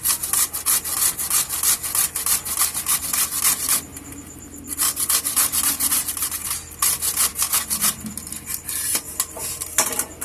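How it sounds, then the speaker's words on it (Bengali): Raw taro (kochu) is rubbed against a grater in a kitchen, giving rhythmic, rapid scraping strokes with a few brief pauses, close and fairly loud. "এইভাবে সমস্ত কচুটাকে আমি এরকম করে গেটারের সাহায্যে ঘষে নেব।"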